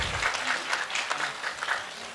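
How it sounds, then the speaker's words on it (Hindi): Audience applause at a school debate competition prize ceremony at MSI Inter College, a steady moderate wash of clapping from a seated crowd, continuous throughout with no voices. "आप इनके लिए तालियां बजाएंगे"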